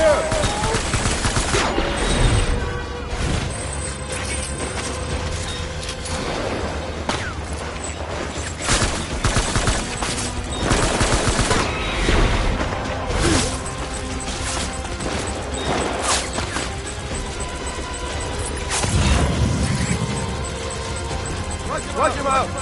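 Sustained gunfire in Death Stranding, a dense fusillade of rapid shots and machine-gun bursts with booms and mechanical clatter, loud and close, with shouting voices mixed in.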